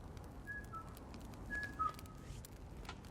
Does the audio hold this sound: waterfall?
no